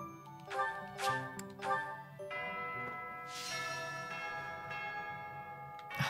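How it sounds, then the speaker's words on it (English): A chiming class bell from the video game Fire Emblem Three Houses rings several overlapping bell strikes, with long resonant tones that sustain and layer into a steady ringing wash. "I'm gonna think of Mr. Bean every time I hear that class bell thing."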